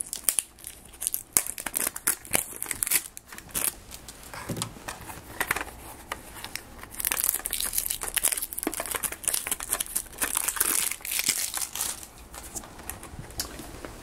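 Plastic wrapper torn off a new SA90 90-minute high bias cassette tape, close up, a long run of sharp crinkles, crackles and tearing, busier in some stretches and quieter in others.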